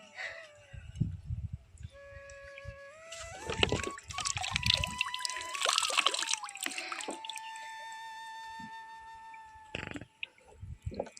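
A plastic bottle fish trap is hauled up out of a village pond by the bathing steps, water splashing and dripping off it in bursts over a few seconds, with a faint tonal hum running underneath.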